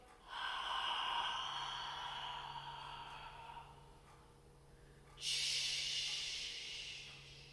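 A long, steady breath is pushed out during a ribcage breathing exercise, a soft airy hiss close to the mic that fades, then a second, brighter exhale rises sharply and tapers off, with no talking.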